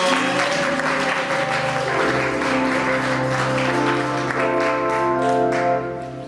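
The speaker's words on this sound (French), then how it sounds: "Acclamons très fort." A church congregation at Sunday Mass claps loudly and steadily, a continuous wash of applause mixed with sustained musical tones that swells and then fades at the close.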